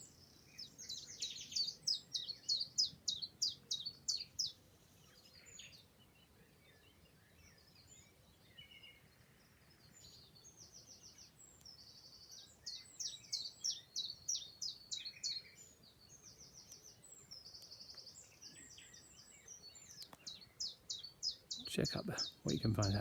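A nightingale sings in woodland, delivering rapid bursts of rich, repeated notes and trills. Phrases come and go with short pauses between them, carried in clear, fairly close song over quiet background.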